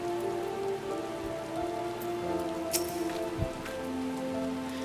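Steady rain patters on surfaces in the video game Final Fantasy XIV, a dense continuous hiss of drops heard alone over soft background game music, with an occasional louder drip.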